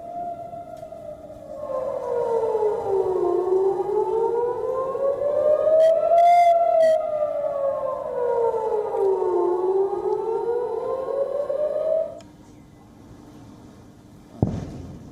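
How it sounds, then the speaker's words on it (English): Civil defense air raid sirens wail over Ashkelon, Israel, loud and sustained, rising and falling in long sweeping cycles from several overlapping sirens before cutting off, followed by a sharp sudden thud at the end. "The sirens were heard and explosions were also seen above the Israeli city of Ashkelon"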